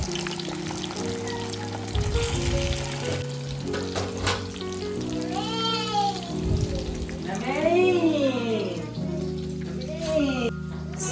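Chilly chicken momo frying in hot oil, a steady sizzle running throughout with background music and a voice talking over it.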